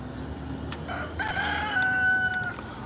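A rooster crows once, a drawn-out call close by that rises and holds for about a second and a half over steady background hiss, with faint clucks just before.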